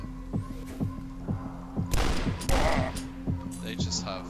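Shotgun fire in the video game Dusk: two loud, booming blasts land near the middle, set over a steady thumping rhythmic backdrop.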